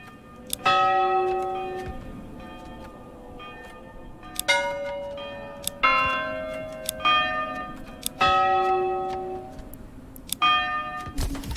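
Church bell rings in the medieval city-builder game Manor Lords, several struck tolls each followed by a long, ringing decay, fairly loud and close with no talk over them.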